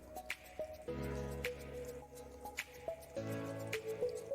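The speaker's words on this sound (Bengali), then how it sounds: "নিয়ে এবার আমি দুধ দিয়ে এটাকে একটা গোলা বানিয়ে নেব" Pithe batter being mixed with milk for khir teler pithe, quiet wet squishing and dripping sounds with soft clinks of a utensil against the bowl in an irregular rhythm, close by.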